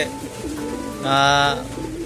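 Pigeons coo in a loft where newly added male and female racing pigeons are housed together, a short, fairly loud burst of warbling coos rising mid-clip over a steady background and what may be faint voices.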